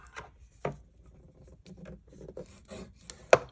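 Paper being scored along a ruler at half an inch for a file folder album gives quiet scraping, rubbing strokes in short bursts and one sharp tap near the end, close by, with no talking.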